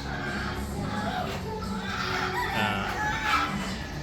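Hens in a breeding pen cluck and call continuously at close range, with layered bird voices and a rooster-like crow mixed into a busy poultry-house din.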